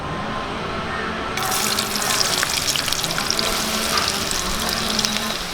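Chopped shallots hit hot coconut oil with a sudden loud burst of sizzling after a quieter start, then keep frying in a dense, crackling hiss close by.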